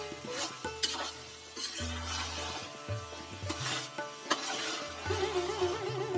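A spoon stirs salt into Awadhi chicken masala cooking in a pan, scraping and clinking against the metal at close range while the masala sizzles and fries softly underneath.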